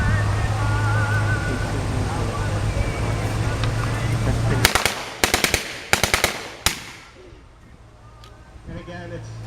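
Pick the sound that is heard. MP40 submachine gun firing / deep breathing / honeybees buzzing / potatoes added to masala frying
MP40 submachine gun firing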